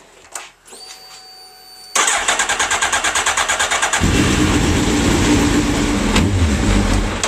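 A Suzuki Hayabusa motorcycle engine cranks and catches, then settles into a loud, steady, throbbing idle that deepens and grows rougher a couple of seconds later.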